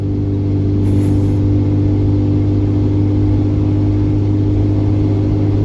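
A diesel pickup with a 5.9 Cummins engine accelerates while towing a load, a loud, continuous low engine drone with a dense rumble and a steady whine, heard from inside the cab.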